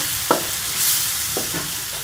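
Tamarind paste being stirred into an aloo chaat masala mixture, a short stretch of soft, close scraping and mixing with a couple of brief spoon strokes, no voices.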